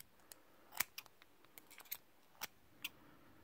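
Small scissors snip excess wick cotton off a Zeus X mesh vape deck, giving a quiet series of sharp, crisp clicks spaced irregularly, close up with no talking.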